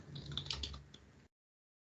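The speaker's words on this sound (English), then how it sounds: "let's type our first JavaScript code" Keys on a computer keyboard are tapped in a brief, quiet run of soft clicks while JavaScript code is typed, heard alone before the sound cuts off abruptly.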